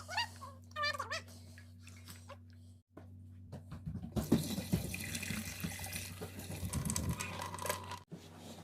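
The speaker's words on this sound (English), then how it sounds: "we'll drain the water and move on to the next step" Water running and draining from a sink as washed acorns are rinsed, a splashing, gurgling flow that starts partway through and continues loudly, with a steady low hum underneath and a few cat-like meows before it.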